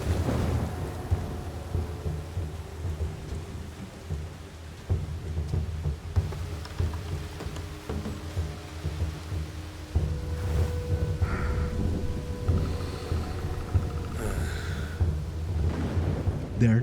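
Steady heavy rain with deep rolling thunder during a rain-soaked video game boss fight, a dense continuous roar that swells at intervals, with some faint game effects on top.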